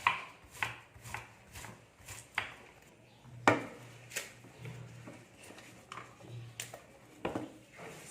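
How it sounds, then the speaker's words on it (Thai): Fresh long beans being sliced with a knife on a cutting board, a series of sharp, distinct chopping taps in an uneven rhythm, close and clear against a quiet background. "เนี่ยถั่ววันนี้ ต้องหั่นให้สวยงามนะคะ"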